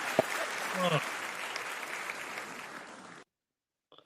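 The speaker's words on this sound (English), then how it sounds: "round of applause for you there" Audience at a football fan quiz night for Coventry City breaks into applause, a steady burst of clapping that runs about three seconds before cutting off abruptly.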